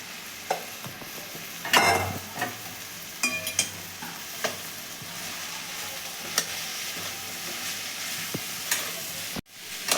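Chopped okra being stir-fried with tomato, salt and turmeric in a pan, with soft sizzling and scattered scrapes and clinks of a spatula stirring at intervals; fairly quiet and close, no voices.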